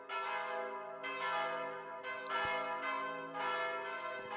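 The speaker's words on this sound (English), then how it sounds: "Damn, them bells are loud." Loud church bells ringing in a repeating sequence of strikes, each bright tolling note ringing out and overlapping the next, close and dominant with no voices.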